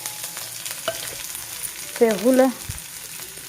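Onion and garlic fry gently in a pan for brinjal chutney, giving a soft, steady sizzle with faint stirring taps. A voice speaks briefly over it.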